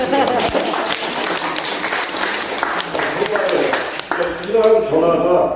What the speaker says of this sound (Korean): 소장님한테 한번 또 박수 한번 주세요.